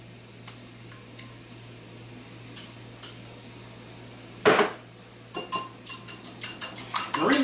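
A whisk or fork works eggs into a meatloaf mixture in a bowl: scattered light clinks, then a sharp knock, then a quickening run of rhythmic taps against the bowl, close and moderately loud, with no talking.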